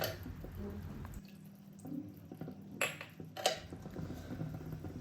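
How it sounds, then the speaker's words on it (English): Coconut milk is poured into a simmering Kerala fish curry, a soft liquid trickle with light splashes and a couple of utensil clinks close by. "now time to add the coconut milk, which will give a rich and creamy texture to our Kerala fish curry"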